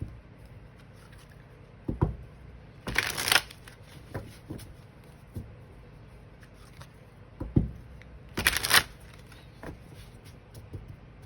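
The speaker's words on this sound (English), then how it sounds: "as I'm shuffling this, I've seen the twin flame card several times" Tarot cards are shuffled in two short, crisp riffling bursts, with soft taps and handling sounds between them in an otherwise quiet room.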